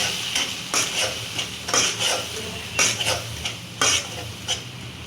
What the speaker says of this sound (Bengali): আমি গলা করি মশলাটা কষাই দিই।